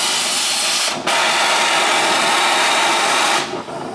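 An oxy-fuel torch flame heating a steel plate gives off a loud, steady, close roaring hiss with two brief dips, otherwise unbroken.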